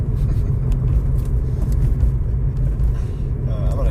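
A car engine drones loudly and steadily from inside the cabin, a deep continuous rumble held at high revs with no pauses.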